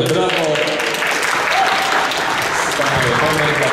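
Audience applause at an awards ceremony, honouring sports club competitors receiving prizes; dense, steady clapping fills the whole stretch at close range, with voices faintly underneath.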